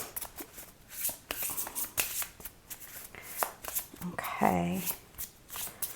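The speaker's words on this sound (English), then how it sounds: "let's pull 1 card and put it on top of this" Oracle cards rustle and slide as one is pulled from a pile, with soft shuffling and flicking sounds close by under a speaking voice.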